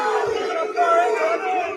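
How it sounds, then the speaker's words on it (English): A packed high school gym crowd roars at a wrestling tournament, a short, loud burst of many voices shouting together that dips briefly and surges again. "You didn't feel the roar of that crowd."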